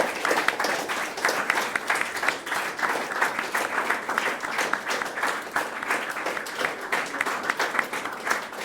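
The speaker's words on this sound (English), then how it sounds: "Can we give Danny a big round of applause?" A studio audience gives a guest a long, loud round of applause, with dense, rhythmic clapping close by that holds steady for nearly nine seconds.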